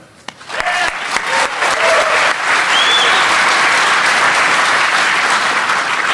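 An audience at a DEF CON security conference applauds to welcome a speaker, starting with a few scattered claps and swelling within a second into loud, sustained, dense clapping from a large room.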